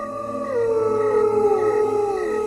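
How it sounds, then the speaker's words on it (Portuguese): A single dog howls in a long, sliding wail that starts higher and drifts downward, heard on its own over faint background hiss. "Uivo"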